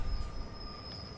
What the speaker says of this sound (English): there's a train right there